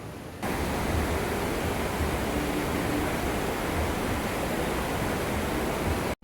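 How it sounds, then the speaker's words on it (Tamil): Water rushes steadily along a channel fed by the Suchindram river near rice fields, a dense, constant broadband roar that stays even throughout before cutting off abruptly at the end. "இந்த தண்ணி எங்கேருந்து வருதுன்னா இந்த சுசீந்திர ஆறுலேருந்து வருது"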